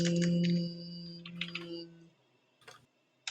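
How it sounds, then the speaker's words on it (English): Computer keyboard keys click in a few short, sparse bursts, close and fairly quiet, with a steady hum fading in the background. "Let's hear my keyboard clicking."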